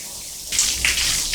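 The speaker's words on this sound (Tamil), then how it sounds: "நம்ம இப்போ தண்ணியில் கையை வாஷ் பண்ணிடலாம்" Water runs and splashes over hands being rinsed of lather from paper soap, a brief hissing gush that starts abruptly and surges a couple of times, close and without talk.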